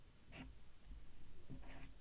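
A pen or marker writes on paper in quiet, close scratching strokes, with two brighter bursts of scratching within a short, faint stretch.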